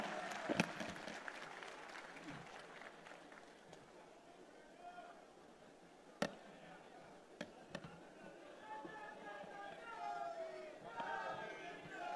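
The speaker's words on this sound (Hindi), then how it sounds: "एक बार जोरदार ताली बजाकर उनका स्वागत किया जाए" Audience applause for Congress President Mallikarjun Kharge at a political rally, a faint, brief clatter of clapping at the start that fades into crowd murmur with a few sharp pops.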